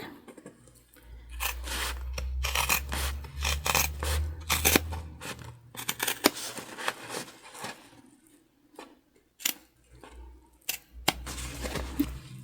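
Scissors snip through two layers of fabric close by while sewing a bum bag, with irregular crunchy cuts and rustling of cloth over a low hum.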